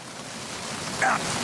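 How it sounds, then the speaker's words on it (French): Rain falls at the start of the video game Metal Gear Solid, a steady soft hiss of downpour with a brief brighter tone rising over it near the end. "faut pas rester trop longtemps sous la pluie au début, parce que sinon Snake tombe malade"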